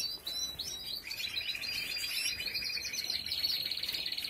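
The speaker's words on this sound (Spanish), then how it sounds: "Este pájaro es hijo del oro molío y la Isabela de la Niña Rosa." A male Isabela canary chirps and trills in quick, bright rippling phrases, close and clear over faint background noise.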